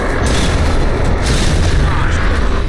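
Heavy guns pound away in a Gears of War 3 battle, a dense, continuous rumble of booming artillery blasts that stays loud and close throughout, with the sharper cracks of shots layered into the roar.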